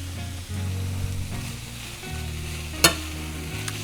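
Red wine sauce with bacon and carrots reducing in a pan, a steady close sizzle with stirring scrapes throughout and one sharp clack near the end.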